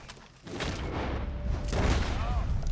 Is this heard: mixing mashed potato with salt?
no